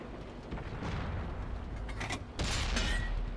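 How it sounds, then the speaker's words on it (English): A tank blowing up in a World of Tanks style match, the Swedish Ikv 90 B tank destroyer scoring the kill: a low, dense rumble of battle that swells into a louder, brighter burst near the end, close and unaccompanied by talk. "Enemy vehicle destroyed."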